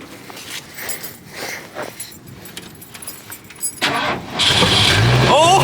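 A 1982 Ford Econoline Coachmen camper van's engine cranks briefly, then catches and roars into a loud, steady run after a few seconds of quiet rustling and faint voices.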